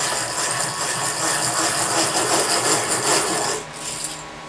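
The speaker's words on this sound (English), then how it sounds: "drill straight down inside the fret." A steady high-pitched whir of a drill boring straight down into a wooden guitar fretboard inside the fret, continuous for several seconds before tapering off.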